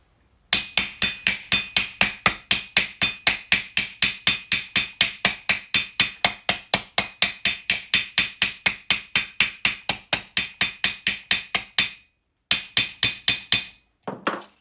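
Rapid, steady hammer blows flatten a rivet and its small burr washer on a basket hilt, roughly fifty sharp metallic strikes in an even rhythm, close and loud, pausing briefly near the end before a few final taps.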